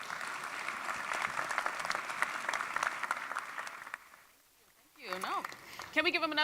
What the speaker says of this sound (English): Can we give him another round of applause, please?